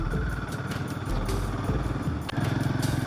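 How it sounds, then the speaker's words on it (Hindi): A Royal Enfield motorcycle engine thumps steadily while riding a landslide-damaged mountain road, a close continuous rumble with a brief dip near the end. "करीब 1 घंटे 10 मिनट से मैं कंटिन्यू बाइक राइड कर रहा हूँ"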